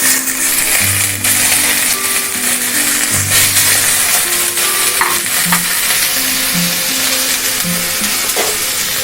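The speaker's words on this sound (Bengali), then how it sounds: "তেল গরম হয়ে গেছে, এবার আমি স্টেকের পিসগুলো দিয়ে দিচ্ছি।" Beef steak pieces frying in hot soybean oil in a pan, giving a loud, continuous close sizzle with occasional clinks and stirring over a steady musical tone.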